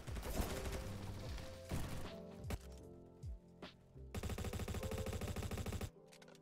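Automatic gunfire from a low-recoil Honey Badger rifle in the Roblox shooter Bad Business: several loud, rapid bursts separated by short pauses, ending in a long sustained burst.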